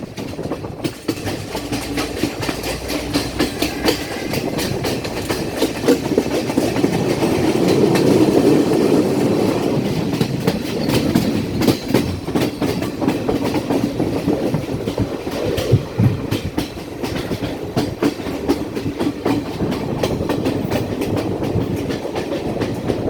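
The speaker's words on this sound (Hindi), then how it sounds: "सुरंगों और पुलों से गुजरती हुई हमारी ट्रेन" A train rolls through tunnels and over bridges in Sri Lanka's hill country, a continuous close rumble with rhythmic clickety-clack of wheels on rails, rising and falling in intensity over the whole stretch.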